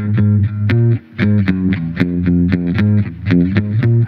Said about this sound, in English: I've actually gone and put a bass amp on this electric guitar